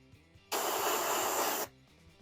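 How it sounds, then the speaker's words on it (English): Aerosol spray paint hisses in one steady, close burst of about a second as logo outlines are sprayed onto an R/C car body, with quiet sounds before and after. "So we'll spray the outline of these logos"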